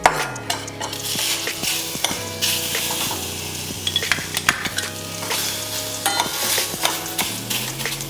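Semolina sheera with dry fruits and chopped banana being stirred in ghee, a spoon scraping and clinking steadily against the pan over a soft sizzle, with background music running throughout.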